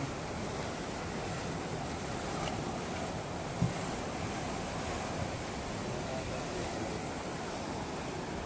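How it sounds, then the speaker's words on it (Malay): Big ocean waves churn around a sinking fishing boat off Kuala Idi, a steady roaring wash of surf mixed with gusting wind noise on the microphone and no clear talking. "Ombak besar-besar kali."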